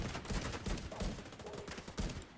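Rifle fire in The Division 2 video game: repeated rapid bursts of shots cracking out in an irregular rhythm, fairly loud and close, with no talk over them.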